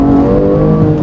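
A car engine pulls hard onto the A21, a steady loud drone with rising engine tones heard from inside the cabin, no talking.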